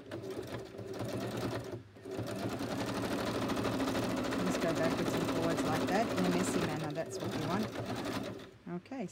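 Sewing machine stitching fabric in a fast, steady mechanical whir, close and fairly loud, with a short pause near the start and stopping at the end.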